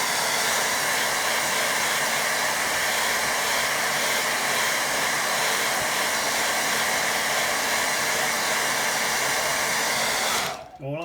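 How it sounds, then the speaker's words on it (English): A hair dryer blowing on a watercolour painting of a windmill, a loud continuous close-up whoosh that runs steadily for about ten seconds before cutting off abruptly. "Let me get a quick blast with dryer."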